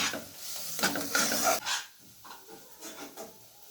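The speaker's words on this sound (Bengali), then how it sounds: "এরপর আমি আদা রসুনের পেস্টটা ভেজে নিচ্ছি।" Ginger-garlic paste fries in a pan while a spoon scrapes and stirs it, making faint, irregular rasping strokes over a low sizzle, with no voices.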